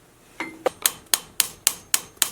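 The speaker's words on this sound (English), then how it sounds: "Setting this rivet is the hardest part of this apology. Use light hammer blows" Light hammer blows set a rivet on a handmade copper rose: a string of about seven sharp metallic taps at a steady rhythm, close and clear, with no talking.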